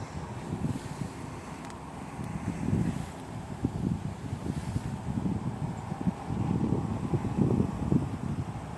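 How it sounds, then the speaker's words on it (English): Steady wind gusting and buffeting close to the microphone, with rumbling low-end noise rising and falling throughout. "It's a windy morning, by the way."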